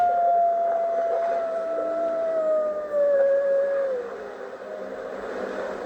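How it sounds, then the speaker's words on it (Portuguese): A pack of three wolves howls in a game, long sustained wavering howls that slide downward and overlap, loud and near against a faint steady background, with no talk. "É uma alcateia com 3 lobos alfa."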